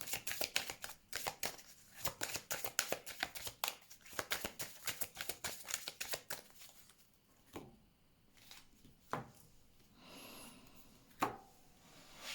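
A deck of cards being shuffled for a card reading: a long run of dense, rapid riffling flutters, then a few quieter separate card snaps and slides, close and alone with no talk.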